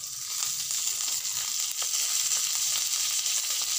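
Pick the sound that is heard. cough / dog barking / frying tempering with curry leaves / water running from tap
frying tempering with curry leaves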